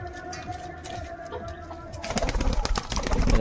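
Domestic pigeons coo softly in a loft in a low, repeating rhythm. Near the end a louder, close rustling and fluttering builds up.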